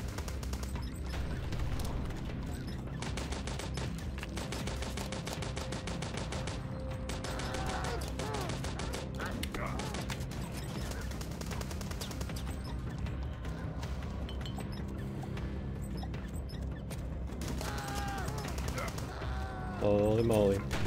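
Gunfire in the retro shooter HROT's endless mode, dense rapid bursts of shots with crashes and mechanical clatter running continuously at high level, a voice speaking faintly underneath.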